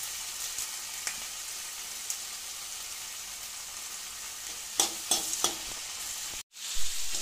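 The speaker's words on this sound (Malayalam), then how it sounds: "നമുക്ക് കറിവേപ്പില ഇട്ട് കൊടുക്കാം." Curry leaves sizzle in hot oil with softened onions for a chicken roast, a steady hiss broken by a few quick stirring scrapes and one sudden crackling burst near the end.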